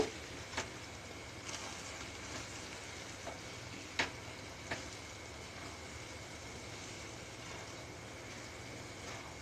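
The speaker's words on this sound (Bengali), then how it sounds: "আমি এবার একটু ভালো করে নাড়াচাড়া করে নেব।" Chicken bharta frying in a pan with yogurt, a low steady sizzle with occasional light clinks of a spoon stirring, faint and even throughout.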